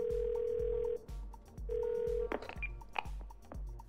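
A phone dials an emergency number in the Twelve Minutes video game: steady tone beeps and dial tones with a soft repeating thump beneath, then a few short electronic keypad blips, all loud and close.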